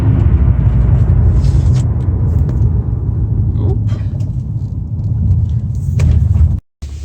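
An Infiniti Q45 brakes while driving, with sway bar link repair done. A steady, loud low road-and-engine rumble fills the cabin almost throughout and cuts out briefly near the end.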